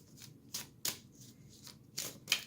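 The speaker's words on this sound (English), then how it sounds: "it shuffles beautifully" Lenormand oracle cards from the Cherry Twilight deck, satin-finish stock, are shuffled up close: a run of soft, quick riffling swishes in irregular bursts, quiet, with no talk.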